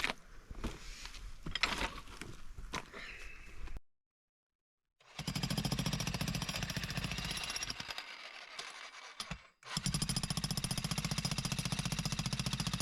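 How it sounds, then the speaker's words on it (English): A jackhammer chipping concrete pounds rapidly and loudly in sustained bursts, stopping briefly twice before resuming its harsh, rattling hammering. "We were able to borrow a friend's jackhammer."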